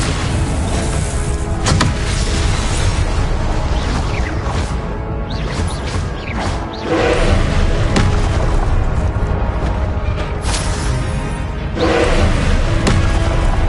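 Confringo and Expelliarmus spell blasts in the video game Hogwarts Legacy, a dense run of loud booming impacts and bursts, several sharp hits standing out over a continuous rumbling battle din.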